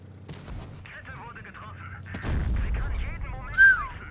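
Heavy booming tank cannon shots in World of Tanks Blitz, a few blasts with rumbling low end, mixed with game sounds and faint German talk.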